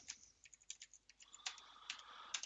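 Quick, light keystrokes on a computer keyboard type out a quiz question, an uneven run of close, soft clicks over about two seconds in a quiet room.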